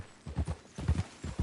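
In Red Dead Redemption, a horse's hooves clip-clop at a walking pace in close, even pairs of dull thuds on the ground, with no talk over them.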